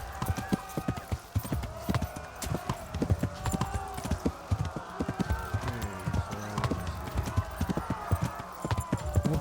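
Horse hooves clip-clop at a gallop in the medieval video game Kingdom Come: Deliverance, a dense steady rhythm of thuds under game ambience. A horse whinnies briefly and some game voices are heard.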